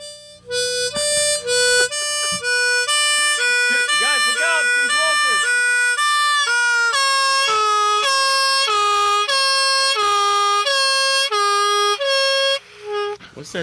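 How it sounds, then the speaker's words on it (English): A European-style ambulance siren blares close and loud in a repeating two-tone pattern inside a Minneapolis comedy club during a podcast, cycling steadily for several seconds with brief pauses at the start and end, while people talk quietly underneath. "I hear a European ambulance coming down the road."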